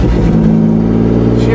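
A four-wheel-drive vehicle with a manual clutch runs just after a cold start in freezing weather, its engine droning loud and steady up close with a slight rise in revs.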